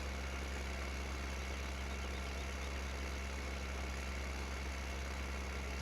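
Tractor engine in Farming Simulator 15 running at a steady idle, a continuous low droning hum with no change in pitch or loudness, alone without speech.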